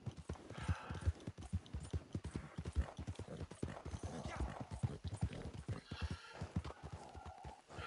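Horse hooves clip-clop at a steady trotting rhythm in Red Dead Redemption 2, crisp repeated hoofbeats close up and continuous throughout.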